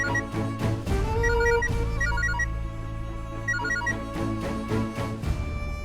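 A telephone ringtone plays as a repeating electronic melody in short bursts, loud and close, with no talking over it.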